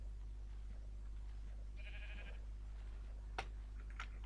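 A sheep in Minecraft gives a short, faint bleat over a low steady hum, followed by a couple of sharp clicks.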